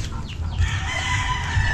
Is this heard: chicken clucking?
yes